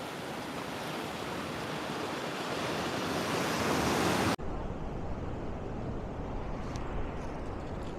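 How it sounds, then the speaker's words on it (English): Ocean surf breaking at Manly Beach, a broad continuous wash of waves with heavy wind buffeting the microphone, loud and steady, then dropping slightly in level after a sudden cut midway. "Look at those amazing waves."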